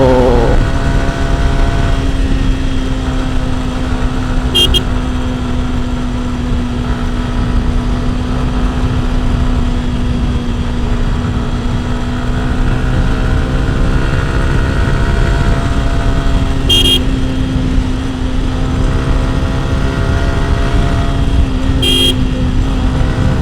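A motorcycle engine on a hilly road from Chittagong toward Khagrachhari, a continuous close, loud drone with a steady tonal hum and brief high-pitched chirps now and then, no talk over it.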